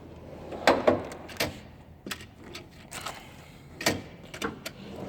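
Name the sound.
Snap-on KRL toolbox drawer being opened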